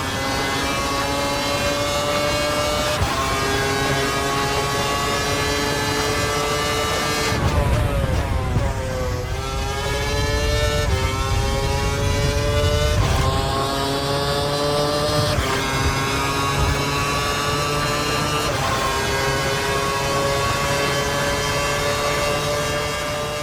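Ferrari F138 Formula 1 car with a 2.4-litre V8 in a Codemasters F1 game, screaming loudly at high revs, rising through gears with sharp pitch drops at each shift and a lift-off dip midway.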